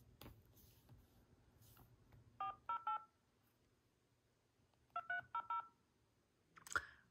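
Phone dialing tones from an iPod Touch 7th generation: two quick bursts of three or four keypad beeps each, clear and close in a quiet room, followed by a soft tap.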